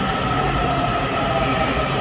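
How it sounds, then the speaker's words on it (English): A metro train rumbles loudly and steadily through a Washington station, with a continuous roar of wheels on rails, a faint metallic whine and no voices. "The train's here."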